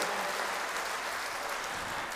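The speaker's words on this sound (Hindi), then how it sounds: "एक बार जोरदार तालियां बजाइए" An audience at a community gathering applauds, the crowd's clapping forming a steady, dense wash that holds for a couple of seconds without talk.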